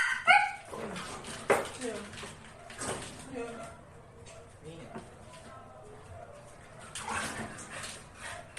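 A pet dog whimpers and gives short yips and barks in a sequence of near, moderately loud bursts, while a person talks to it in between.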